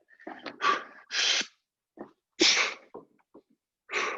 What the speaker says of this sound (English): Here comes that breathing again